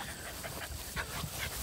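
A dog pants close by in quick, steady breaths, a continuous rasping rhythm heard alone for under two seconds.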